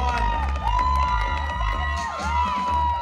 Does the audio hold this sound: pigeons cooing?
no